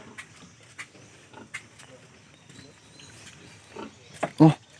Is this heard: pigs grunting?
yes